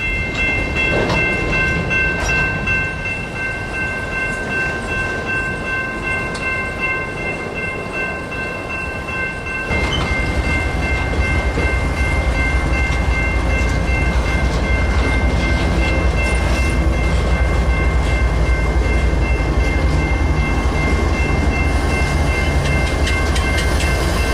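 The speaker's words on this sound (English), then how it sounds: "forced this monster of a train here to take the siding" A long Union Pacific freight train rumbles steadily nearby as it moves into a siding in winter, wheels clattering and squealing on the rails as it rolls slowly, with a constant high whine over it.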